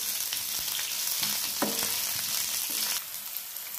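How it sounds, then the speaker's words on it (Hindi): Onions frying in a pan for Malvani crab curry, a dense steady sizzle with a few soft stirring scrapes, close and moderately loud throughout, no speech. "प्याज थोड़ा सा सॉफ्ट होने तक यानी 2 से 3 मिनट तक हम इसे अच्छी तरह भून लेंगे"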